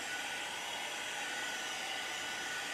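A hair dryer blows steadily on a small painted sign, a loud continuous whooshing roar that holds unchanged throughout with no one speaking.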